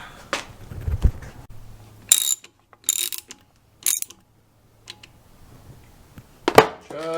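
A ratchet wrench tightens a bolt into a forged Honda Prelude H22 engine block, heard up close as several short bursts of ratcheting clicks separated by quiet pauses, with a louder final burst near the end.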